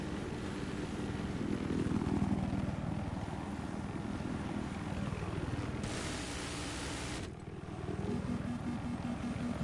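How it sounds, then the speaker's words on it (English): A helicopter in the video game Battlefield 4 drones with a steady, dense rotor roar and rumble throughout. The noise is loud and constant, with a brief swell partway through. "Can you please get rid of that freaking airplane? Not airplane, helicopter, because it won't stop shooting me down."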